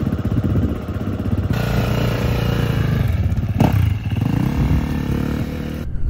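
A motorcycle is ridden around a drying outdoor track, its engine droning steadily and loudly throughout, with rising and falling revs and a brief louder burst near the middle.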